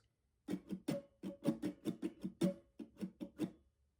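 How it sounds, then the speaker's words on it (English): Close acoustic guitar strumming in the alternate 1A pattern of a song: a quick, even sequence of roughly fourteen bright strokes with occasional stronger accents, no voice over it, ending with a short ring-out. "And alternate 1A would sound like this."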